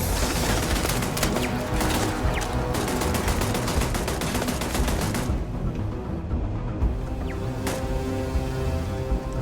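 Rapid automatic gunfire from a corrosive-effect gun in Starfield, loud dense bursts of shots that cut off abruptly, followed by a quieter stretch with a couple of isolated reports.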